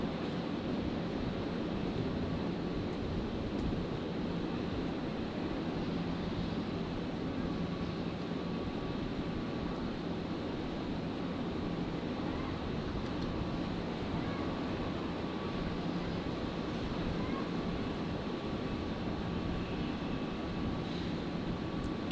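A Jetstar jet airliner arrives on runway 01 right at Brisbane Airport, making a faint, distant, steady broadband roar that holds level throughout, with no voices over it.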